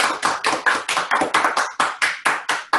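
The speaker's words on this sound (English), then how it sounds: "go ahead and give yourselves a round of applause" At a virtual awards ceremony, a single pair of hands claps in a steady quick rhythm, about a dozen crisp, close, separate claps with no other sound between them.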